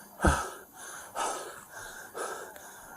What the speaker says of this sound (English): He's still breathing.